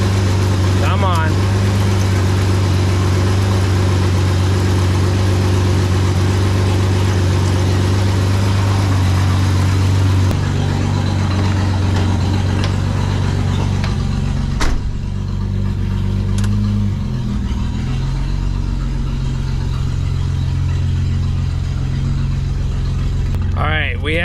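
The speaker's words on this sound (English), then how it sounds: "We have a huge exhaust leak. We're basically running straight pipes." An Isuzu Trooper engine runs with a huge exhaust leak, a loud, raw, near rumble throughout that shifts character midway, with faint voices and a few brief knocks over it.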